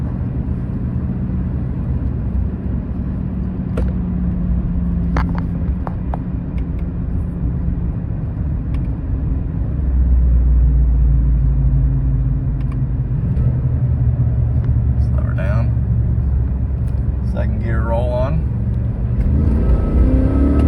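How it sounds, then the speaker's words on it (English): A GMC Sierra pickup with an 8-speed transmission pulls away, its engine a loud, continuous low rumble that steps up in level partway through as it works through the gears. "show you how it shifts. This is the 8-speed."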